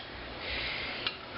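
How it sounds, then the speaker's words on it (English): Custard being stirred in a pan on the stove, a steady close scraping and rubbing of utensil against metal with one brief louder clink near the end. "you're going to want to stir the entire time"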